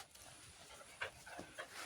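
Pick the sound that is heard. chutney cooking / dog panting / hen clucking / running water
dog panting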